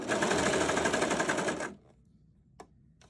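A Brother 1034DX serger stitches in a loud, rapid continuous whir for about a second and a half, then stops abruptly, leaving quiet room noise and a faint click.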